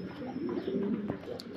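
A pigeon coos in low, rolling phrases close by, a soft repeated throaty murmur over a quiet background, with a faint high chirp near the end.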